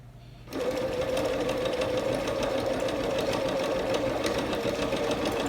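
A Pfaff Quilt Ambition 630 sewing machine starts up and stitches steadily at medium speed, a close, even mechanical whir with rapid rhythmic needle ticking that continues without pause.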